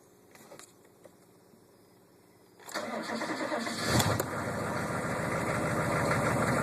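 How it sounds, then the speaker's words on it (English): A 1998 Chevrolet K2500 pickup truck cold-starts nearby: a quiet stretch with faint clicks, then the starter cranks, the engine catches with a loud surge and settles into a steady, rough idle. "So here's a cold start."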